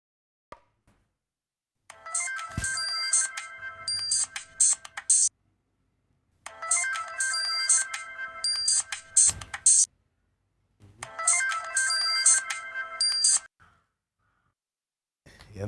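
A mobile phone ringtone plays in three repeated bursts of a bright electronic melody, each a few seconds long and separated by short silences, loud and close in an indoor comedy-serial scene.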